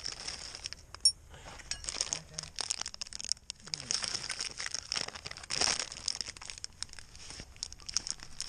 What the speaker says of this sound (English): Pop this sucker out of the bag.